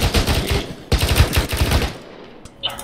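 Bursts of rapid machine gun fire ring out in a military video game, two loud rattling volleys followed by fainter scattered shots as it tails off.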